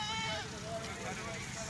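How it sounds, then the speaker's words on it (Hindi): Goat bleating at a livestock farm, a wavering, drawn-out bleat heard under someone speaking nearby, with other animal noise around. "एक कांज है जी और एक बकरा है"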